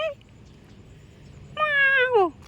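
Cat meowing nearby, one short call at the start and then a longer, louder drawn-out meow that bends downward at its end, over quiet outdoor background with no talk.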